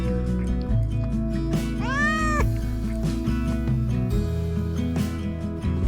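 A cat meows in a few drawn-out, rising-and-falling cries over a humming indoor background with faint clatter, fairly close and clear.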